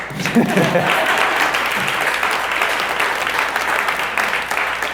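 An audience clapping at a talk, dense sustained applause from many hands filling the room, with a voice audible briefly at the start.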